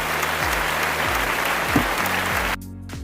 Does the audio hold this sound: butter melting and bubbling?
no